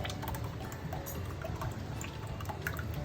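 A thick instant pudding mixture pours steadily with a soft, gurgling trickle, close up and fairly quiet.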